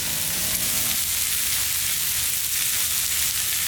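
A blackened ribeye steak sears in a hot pan with a loud, continuous crackling sizzle; a faint brief tone shows only in the first second.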